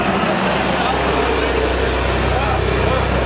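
Steady, loud engine rumble and broadband road noise from a bus, a continuous drone with no breaks, close by and filling the whole stretch.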